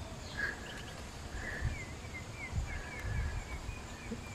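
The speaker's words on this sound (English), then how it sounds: "I can hear the blue jays calling each other." Blue jays call to one another outdoors near a campfire, a few short, thin cries spaced through the clip, faint and somewhat distant over a soft rustling background.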